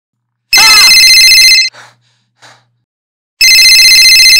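A telephone rings loudly with a bright electronic tone in two long bursts separated by a pause, with soft breathing sounds in the gap.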